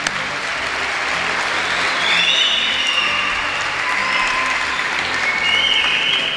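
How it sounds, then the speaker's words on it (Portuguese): A crowd claps steadily for several seconds for a roller speed skating club in Lagos, with some cheering and whistles rising over the sustained applause. "merecemos uma salva de palmas"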